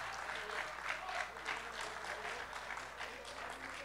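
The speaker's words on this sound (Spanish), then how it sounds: "que se oigan esas palmas." Faint, rhythmic clapping from a festival crowd at the Festival de la Guanacastequidad honoring marimba players, heard at a distance in an even pulsing pattern.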